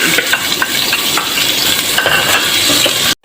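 Chopped onion frying in half a cup of oil for aloo gobi, a loud close sizzle with scattered spoon scrapes and light clinks, cutting off abruptly near the end.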